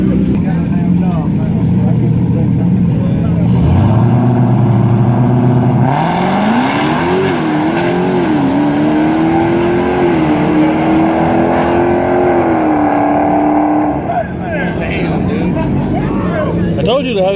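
Two muscle cars, a Dodge Hellcat and a Ford Mustang, race down a dragstrip. A loud engine revs up at launch and then climbs through gear changes with a sustained roar. Spectators talk over it.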